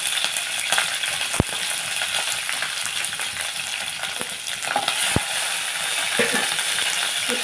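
Green chillies and gongura leaves fry in hot oil for a mutton gongura dish, giving a steady, close sizzle throughout with a few sharp utensil clicks against the pan.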